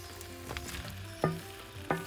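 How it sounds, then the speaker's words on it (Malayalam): Fried chicken pieces tipped into hot Kerala-style roast masala in a pan, giving a steady sizzle with three sharp, louder bursts as the pieces hit the oil, close and clear with no talking. "ഇനി ഇതിലേക്ക് ഞാൻ വറുത്ത് വെച്ചിരിക്കുന്ന ചിക്കൻ ചേർക്കുകയാണ്."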